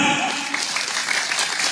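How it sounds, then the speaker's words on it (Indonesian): An audience claps steadily together for a couple of seconds at an outdoor religious lecture gathering in Astanajapura, Cirebon. "Tepuk tangan."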